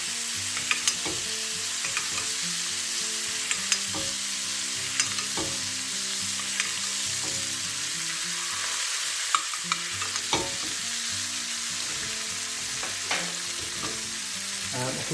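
Scallops pan frying with butter being basted over them give a steady, close sizzle with frequent spoon scrapes and clinks against the pan, continuing without pause.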